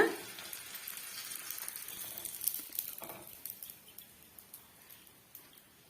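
Rice flour vadagam frying in hot oil over a medium flame: a soft, steady sizzle with light crackling pops that grow sparser toward the end, quiet and close, with no talking.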